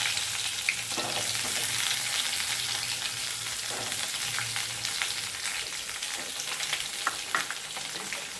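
Onion frying in oil in a pan for a Tamil kuzhambu with brinjal, raw mango and cowpeas, a steady close sizzle with occasional stirring scrapes throughout.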